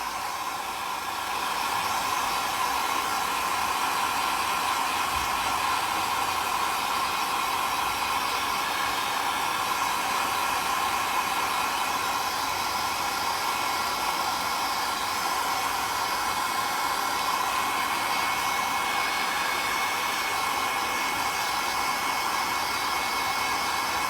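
A hair dryer blows continuously for a long stretch, a steady, loud whooshing hum with no breaks, used to dry a dusty handmade craft piece.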